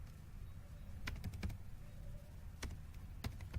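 Quiet typing on a computer keyboard while writing CSS code, scattered individual key taps and short clusters of clicks over a low, steady background hum.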